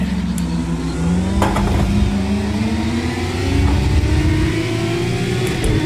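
Renault Mégane V6 race car engine in Project Cars 2 at Le Mans, a loud, close, continuous engine note rising steadily in pitch under acceleration, without speech.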